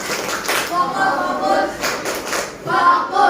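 A school class performs the "tepuk fokus" clapping routine, with several sharp, rhythmic bursts of group claps among chatter and voices in the room.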